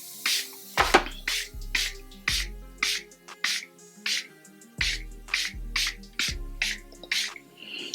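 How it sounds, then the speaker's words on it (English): Setting spray misted onto a face after powder makeup, heard as a quick series of short, close hissing spritzes in two clusters, each burst brief and crisp. "I'm going to spray it."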